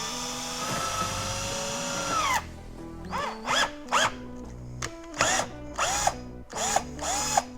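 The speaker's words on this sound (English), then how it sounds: "Remove brackets and drill 4 marked holes." A power drill boring four holes in a motorcycle saddlebag. One long steady whine gives way to a series of short bursts whose pitch dips and climbs with the load, each burst close and distinct.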